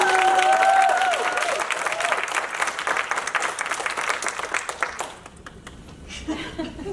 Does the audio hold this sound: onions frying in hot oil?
no